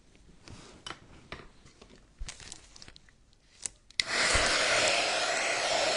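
A hair dryer blows steadily and loudly on a white cutting board after about four seconds, following a stretch of crinkling and handling noises.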